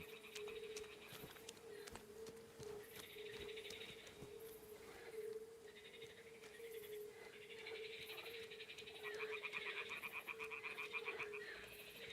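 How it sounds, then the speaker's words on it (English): Toads croak in a steady, dense chorus in a nighttime outdoor scene of the video game Kingdom Come Deliverance 2 near Trosky, continuous and fairly close, with rattling trills swelling in and out over a constant low hum. "Ah, the toads are croaking here."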